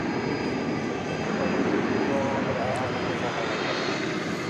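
Qantas Boeing 787-9 Dreamliner on Flight 22 to Melbourne, preparing for takeoff at DFW Airport after dark, a steady broadband jet engine roar that holds at an even, fairly loud level throughout.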